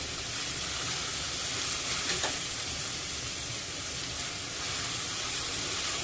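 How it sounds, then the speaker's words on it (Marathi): Chopped onion with a pinch of salt frying in a pan until golden brown, a steady close sizzle and hiss running evenly throughout with no talk over it. "तर कांदा आपण सोनेरी रंगावर परतून घेऊया."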